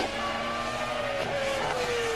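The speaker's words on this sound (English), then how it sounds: "That was in turn one for Jenson now." A Formula 1 car passes during the 2002 Malaysian Grand Prix warm-up, its high engine whine held as a steady, fairly distant tone with a falling pitch, over continuous broadband crowd and track noise.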